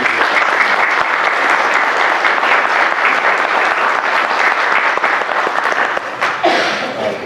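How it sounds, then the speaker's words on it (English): Attendees at a county commission meeting in Carter County, Tennessee give a round of applause, steady, fairly loud clapping from a roomful of people that tapers off near the end. "Let's give her a round of applause."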